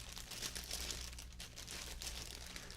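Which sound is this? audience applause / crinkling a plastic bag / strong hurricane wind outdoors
crinkling a plastic bag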